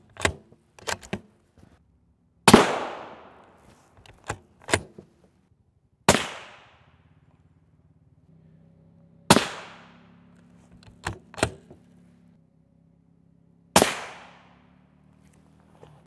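Rifle shots of armor-piercing rounds, including M993 and M80A1, strike an NIJ Level IV tile-array armor plate: several loud, sharp cracks at irregular intervals with ringing decays, interspersed with smaller clicks, over a quiet background.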